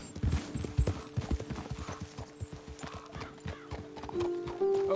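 Horses in Red Dead Redemption 2 trot with steady clip-clopping hooves, close and fairly loud, with a whinny near the end over a faint game ambience.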